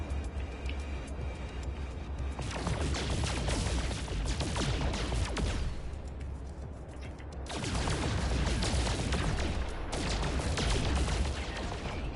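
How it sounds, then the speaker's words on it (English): Photon cannons fire from a ship in No Man's Sky, long dense streams of rapid crackling shots in two sustained bursts separated by a short lull, loud and close. "Right, let's try using photon cannons."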